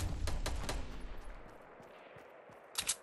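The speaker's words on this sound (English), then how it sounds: "Shots!" A quick run of sharp gunshots from a Fortnite duo match cracks out close and loud at the start, then fades to quieter background noise before two more shots pop near the end.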